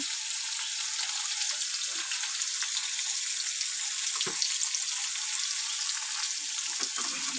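Parshe fish coated with turmeric and cumin fries in hot oil, giving a steady, bright sizzle with crackling spatters throughout and no voices.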